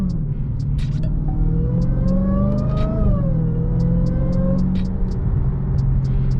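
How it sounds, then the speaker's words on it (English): A Dodge Hellcat engine revs up and eases down with a steady supercharger whine, loud and close, with sharp clicks from paddle-shifter gear changes along the way. "that supercharger be sounding crazy"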